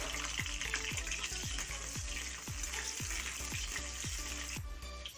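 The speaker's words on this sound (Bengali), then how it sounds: "তেল দিয়ে আলুগুলো প্রথমে ভেজে নিচ্ছি আমি।" Potatoes fry in oil in a wok with a strong, close sizzle, while a spatula scrapes and clinks against the pan in a regular rhythm of about two strokes a second. No voice is heard.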